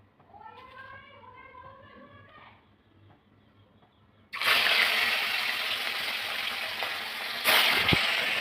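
Rohu fish sliding into hot mustard oil in a wok sets off a sudden loud, steady sizzle that holds for several seconds, with a sharper burst of spitting near the end; faint voice-like chatter precedes it.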